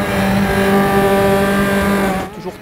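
Race car engines in the racing video game RaceRoom whining at high pitch, a loud sustained drone that cuts off sharply near the end.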